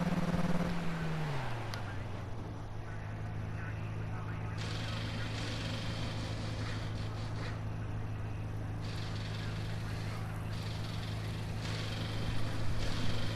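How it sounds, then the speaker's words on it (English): A race car engine held on the pit limiter in a racing video game, a steady low drone that dips in pitch early on, then holds an even buzzing hum with faint hiss on top. "This thing sounds so weird on the pit limiter."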